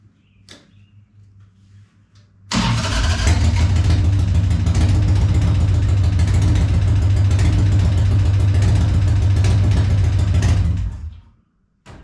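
A Harley-Davidson V-twin engine swapped into a golf cart starts after a quiet moment and runs loud and close with a lumpy, throbbing idle, then cuts off near the end.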